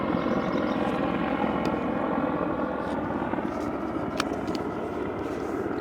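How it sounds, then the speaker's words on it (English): A loud helicopter flies overhead, its steady rotor and engine roar filling the whole stretch at close range with no talking. "Dude, that is a loud helicopter."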